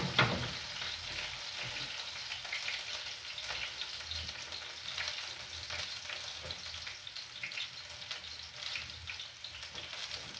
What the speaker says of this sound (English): Kitunguu weka kwa pan pande hii.